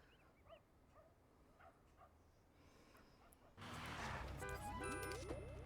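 A dog in a family-life simulation game gives a few faint, soft yips and whimpers, spaced apart. Louder, busier game sounds then swell in and take over.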